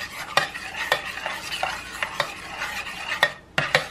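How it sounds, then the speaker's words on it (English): Spoon stirring barbecue sauce in a bowl or pot before apple cider vinegar is added, with repeated sharp scraping clinks against the sides in an uneven rhythm, close up with no talking. "I'm mixing it in good, stirring it completely"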